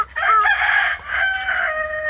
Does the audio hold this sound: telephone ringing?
no